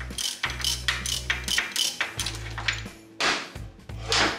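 A ratchet wrench removes the transmission plate bolts on a Shovelhead motorcycle, with repeated rapid clicking bursts and pauses in between, close and clear, no talking.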